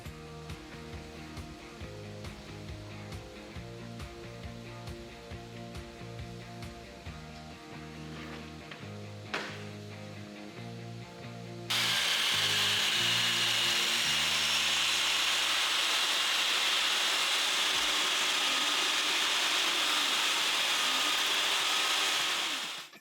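Saw cutting scrap wood for a serving board at maximum blade height: a steady loud roar of blade through timber that takes over after a stretch of rhythmic motor whine and fades as the cut ends.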